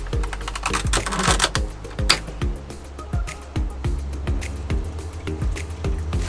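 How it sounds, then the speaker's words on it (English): A knife trims the ends off fresh celery on a cutting board in an RV kitchen, a series of crisp, rapid chopping clicks and crunches in irregular bursts, close and clear with no voices. "So first I'm going to just prep the celery, rip the package open, trim the ends off, remove the dirt, set it aside."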